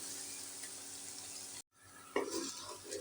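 Fresh ginger garlic paste fries in a pan with a soft, steady sizzle, briefly cut off, then resuming with a few stirring scrapes and louder crackles, faint and close.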